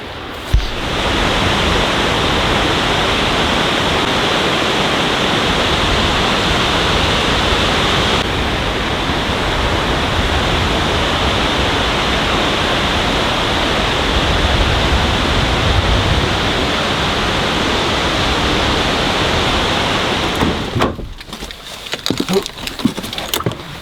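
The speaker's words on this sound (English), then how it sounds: "we've never been able to like get this close to waterfalls" A waterfall in Iceland heard from close range, a loud, dense, unbroken roar of falling water that lasts about twenty seconds before wind buffets the microphone.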